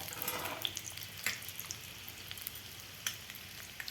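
Eggs frying in a pan for a dhaba-style anda masala, a steady high crackling sizzle with a few sharper pops and scrapes standing out, close and moderately loud, with no talking.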